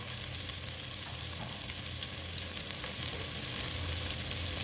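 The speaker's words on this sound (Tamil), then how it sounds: "இப்போ ஜீரகம் போட்டுக்கலாம்." Cumin seeds sizzle and crackle in hot sunflower oil for a fish fry curry, a steady, close hiss with fine popping that continues evenly throughout.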